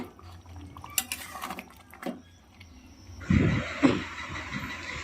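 A lid clatters onto a cooking pot of oil-free chicken curry with potato and sour yogurt, two close metallic knocks after softer kitchen handling sounds.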